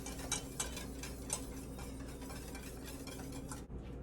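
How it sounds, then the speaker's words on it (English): A whisk beats lemon curd in a pot with quiet, rapid, regular ticking strokes against the metal, faint and close over a low steady hum, with no talking. "We're going to whisk constantly until the lemon curd turns opaque"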